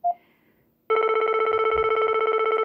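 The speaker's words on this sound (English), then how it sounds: "that's the ringtone that you get" A BT3570 cordless phone handset sounds its default number 1 ringtone. A short beep comes first, then after a brief pause a loud, continuous warbling electronic trill sets in close up and keeps going.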